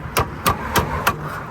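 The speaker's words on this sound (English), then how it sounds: "And hammer it out." Four sharp metallic hammer strikes in a steady rhythm, knocking a bolt out of the front suspension of an Acura TSX during a wheel bearing replacement, close and loud.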